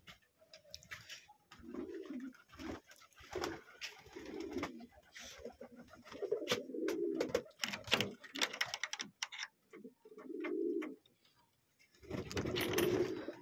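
Pigeons coo in a rooftop loft at night during feeding time: soft, low, repeated bursts of cooing that come and go, with scattered light clicks and rustles between them.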